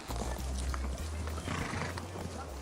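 Ponies walk on long reins during a riding lesson, their hooves clopping steadily and close among snorts and whinny-like breaths over a dense, noisy background.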